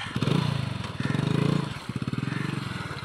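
A car engine turns over in repeated cranking bursts, three rhythmic chugging pulses close by as someone tries to start it, with no talk over the sound.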